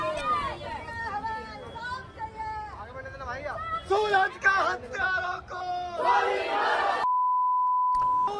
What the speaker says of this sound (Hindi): दूसरी तस्वीर आप देख रहे हैं उस गुस्साए भीड़ की, जिसने जमकर हंगामा किया, विरोध जताया और कार्रवाई की मांग की